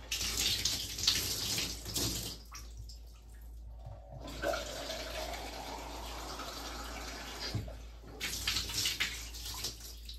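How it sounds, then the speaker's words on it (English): Water gushes into a bathtub while rust stains are rinsed away, close and fairly quiet, flowing in bursts with short pauses between. "Alright, so we rinse it"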